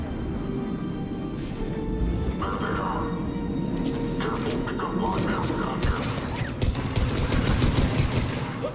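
Turret gunfire in Mass Effect 3, a steady stream of rapid shots and mechanical clatter under a constant din of battle, with bursts getting denser toward the end while a voice talks over it.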